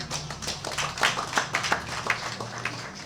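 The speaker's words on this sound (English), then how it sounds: "Can we clap for this man?" Audience at an office inauguration event clapping for a speaker, a short burst of scattered, uneven hand claps from a small crowd, fairly close with no talk over it.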